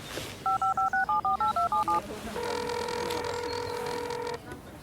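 A telephone number is dialed as a quick run of about ten touch-tone beeps, followed by a steady ringback tone on the line, moderately loud and alone.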